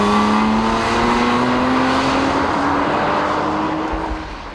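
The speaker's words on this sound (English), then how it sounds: "It also boasts a raspy exhaust note that begs the driver to keep the hammer down." A Porsche Cayman from 2007 driving hard, its engine rising steadily in pitch under a loud, raspy exhaust note, close and continuous before easing off at the end.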